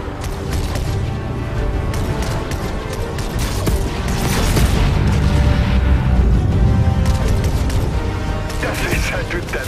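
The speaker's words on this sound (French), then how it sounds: "Les lasers vont juste chatouiller Galactus, mais ils ne feront qu'une bouchée de ces drones" Loud bursts of laser cannon fire and explosions blasting drones in the video game Fortnite, a dense barrage of booms and crashes that swells in the middle.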